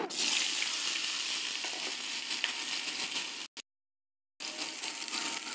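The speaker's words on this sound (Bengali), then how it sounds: "তিনটে শুকনো লঙ্কা নিয়েছি, লঙ্কা তিনটা আমি ভেজে উঠিয়ে নেব" Three dried red chillies frying in hot oil in a pan, a steady bright sizzle that runs continuously, cuts out abruptly for about a second, then resumes just as evenly.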